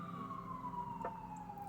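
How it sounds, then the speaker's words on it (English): A faint, distant siren wails with a slowly falling tone over low background rumble. "There's sirens."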